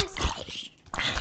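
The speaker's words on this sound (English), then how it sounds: "Kill them, doggies!" Tamed wolves attack in the Minecraft video game with short, close barks and yips, then a brief lull before another burst of dog sounds.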